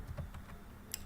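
A few quick, light keystrokes on a computer keyboard, faint and close, with no one talking.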